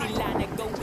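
Strong wind buffets a microphone outdoors near a bridge, a loud, rough rumbling roar that fills the short moment with low gusting noise and no clear talk.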